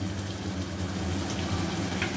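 Ground spice paste fries in a pan with a continuous, even sizzle that stays close and steady, with no voices over it.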